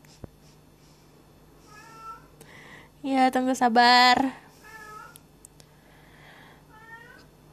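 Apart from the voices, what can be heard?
cat meowing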